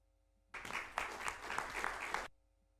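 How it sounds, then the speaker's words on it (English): Applause from an audience at a city council meeting, a burst of clapping lasting under two seconds that starts abruptly and cuts off, heard alone against a quiet room. "You're clapping. I'm clapping too. Well, I think it's a round of applause"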